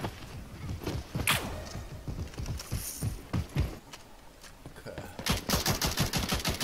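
In the Rogue Company video game, AK rifle fire bursts out in quick rattling volleys and single sharp cracks, moderately loud, with denser automatic bursts toward the end.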